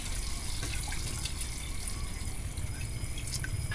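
Steady rushing of one cup of water pouring into a cooking pot, continuous and close for the whole stretch, with no voices.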